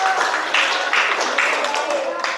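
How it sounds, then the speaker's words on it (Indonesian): Schoolchildren clapping together in a classroom, a steady dense patter that stays loud for the whole span, with no clear pauses. "tepuk tangan buat Amel."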